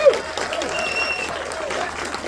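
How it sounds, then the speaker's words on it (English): An audience applauds a horror filmmaker at a film premiere in Pittsburgh, a steady wash of many hands clapping with a few voices mixed in, close and sustained throughout. "Give him a round of applause."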